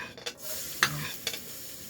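Ginger sizzles and is stirred in a hot pan for a beef Bicol Express, with a steady frying hiss broken by a few sharp scraping or stirring clicks.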